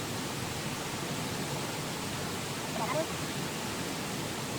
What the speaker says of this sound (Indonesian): Gemericik suara air